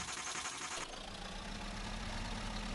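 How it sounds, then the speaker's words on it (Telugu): A pickup truck's engine in a video game cranks, then settles into a steady low idle rumble, with no voices. "ఇప్పుడైతే ఇంజిన్ స్టార్ట్ చేసుకుందాం గైస్."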